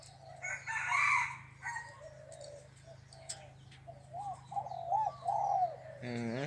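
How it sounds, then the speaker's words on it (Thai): A small bantam rooster crows in a thin, high-pitched call, with other birds chirping and cooing around it and a low hum underneath. "ไก่แจ้ก่อนจะขัน อีกคำน่าจะขันอยู่"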